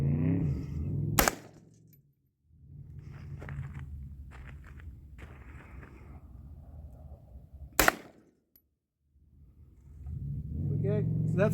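Two sharp semi-automatic gunshots fired outdoors, loud single cracks several seconds apart, with people talking and moving between them.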